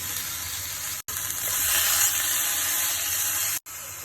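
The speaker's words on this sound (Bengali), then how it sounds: "আমার ব্রোকলি হালকা ফ্রাই হয়ে গেছে" Broccoli fries in butter in a pan with a steady, loud hissing sizzle that cuts out briefly twice.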